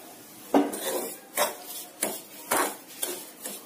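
A spoon scrapes repeatedly through semolina roasting in ghee in a pan, roughly six close, rhythmic strokes with faint frying underneath.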